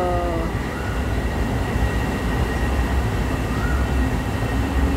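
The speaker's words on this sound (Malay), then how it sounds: "Tu LRT, tengok LRT jalan sana" A light rail LRT train running through Kuala Lumpur near a city park and river, heard as a steady distant rumble with a faint whine, continuous and even throughout.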